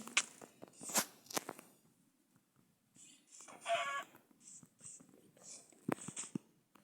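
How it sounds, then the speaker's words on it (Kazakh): A video-game chicken gives a short burst of clucks midway through. The clucking is quiet and mixed with soft, scattered game noises and faint background sounds. "Тауық, бер кел."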